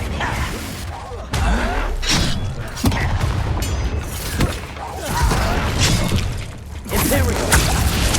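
A Confringo fire spell bursts in Hogwarts Legacy on hard mode, with repeated loud booming blasts and thuds amid combat clatter, several impacts spread across the span.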